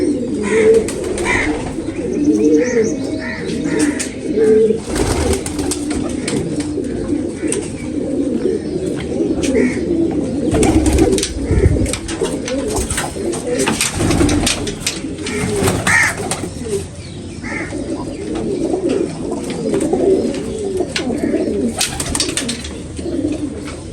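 Steady, continuous cooing of pigeons, low soft warbling calls overlapping throughout, with occasional louder knocks and rustles nearby.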